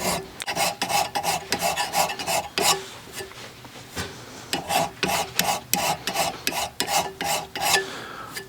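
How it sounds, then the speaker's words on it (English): A hand file is drawn across a metal gun part to remove serial numbers, making a rapid series of close, harsh rasping strokes with short pauses between runs. "you've heard the term draw filing. It's just a fancy term for what I'm doing right now."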